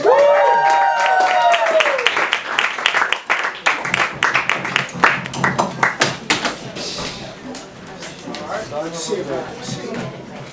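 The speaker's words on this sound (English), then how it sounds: "Let's have a big round of applause." An open-mic comedy crowd applauds the comedian Richard Hellfire, a dense round of clapping with sharp individual claps, tapering off, while voices talk and a tonal sound rises at the start.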